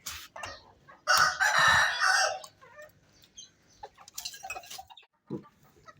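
A rooster crows loudly nearby in one long call, followed by softer clucks and scattered rustling.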